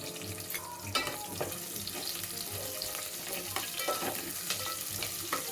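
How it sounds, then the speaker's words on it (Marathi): Two medium onions, thinly sliced, sauté in a pan for matar paneer pulao, a constant close sizzle broken by occasional scrapes and stirring clatter. "कांदा आपल्याला गुलाबी रंगावर परतून घ्यायचा आहे।"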